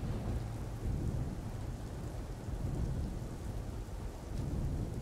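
Thunderstorm with heavy rain in the video game Empyrion Galactic Survival: a dense, steady rain hiss with low rolling thunder rumbling underneath throughout, loud and close, with no talk.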